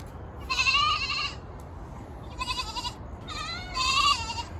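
Goats bleat at a farm in three separate bursts, each a wavering, nasal cry heard fairly close over a low, steady background rumble.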